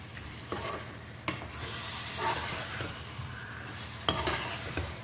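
Marinated potatoes and masala get stirred in a pan for potato dum biryani, a muffled sizzle with occasional scraping and knocking of a spoon, close, fairly quiet and with no voices.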